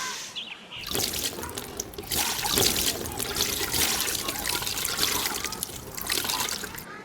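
Water poured over hands for ritual washing before a meal of matzah, a steady trickle and splash into a basin that runs nearly throughout, close and moderately loud.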